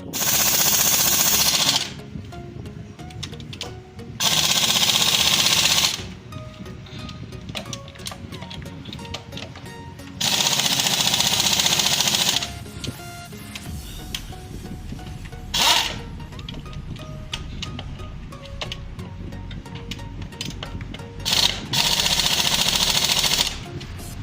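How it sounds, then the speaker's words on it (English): Loud bursts of a power drill rattling in repeated runs of a few seconds, tightening engine head bolts on a 1994-2002 Toyota Camry 5S engine, with quieter clinking mechanical handling between bursts. "I tighten head bolt with drill."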